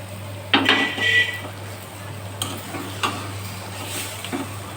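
A fried hilsa fish head being added to a pot of cooking taro greens: a couple of metallic clatters and a scraping stir over a steady low sizzle, followed by lighter taps and soft stirring.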